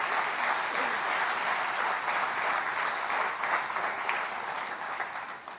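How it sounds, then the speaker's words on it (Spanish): A church congregation applauds together in a worship service, a dense, steady wash of clapping that holds at a constant level for several seconds before easing slightly at the end. "Dale un aplauso al Rey bendito."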